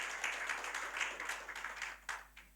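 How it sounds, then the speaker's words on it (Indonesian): Applause from a church congregation at a Sunday service, steady dense clapping that holds for a couple of seconds and thins out toward the end, with a few sharper claps standing out. "Beri tepuk tangan buat Yesus kita."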